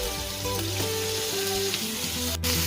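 Chicken steak fries and sizzles steadily in a pan, a close, continuous crackle with a faint clink near the end.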